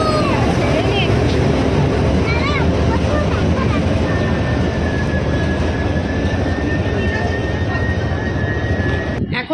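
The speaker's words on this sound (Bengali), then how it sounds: "শিয়ালদা বারুইপুর লোকাল আসছে।" Sealdah–Baruipur local train passing at a station, a loud sustained roar and rumble throughout with a long horn-like tone, voices audible beneath the noise.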